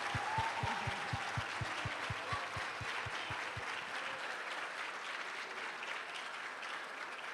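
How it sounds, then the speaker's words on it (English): Sustained audience applause fills a school auditorium at a fifth grade arts celebration, a dense steady wash of many hands clapping, with one person's sharp rhythmic claps standing out near the front for the first few seconds. "let's give him a round of applause"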